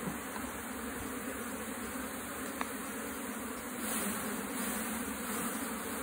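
Bees drone at an opened beehive, a continuous close buzzing swarm that holds steady and swells slightly, with no speech.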